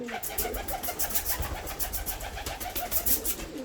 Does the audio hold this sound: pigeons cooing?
yes